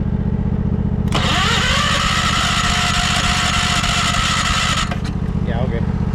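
A 1968 John Deere 140 garden tractor engine cranks and catches on full choke, running loud and steady for several seconds over a constant low drone, then cutting out abruptly.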